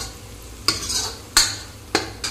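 Onion and capsicum stir-fried over high flame in a pan for restaurant-style chilli paneer, a ladle scraping the pan in four sharp strokes over a steady sizzle, close and moderately loud with no talk.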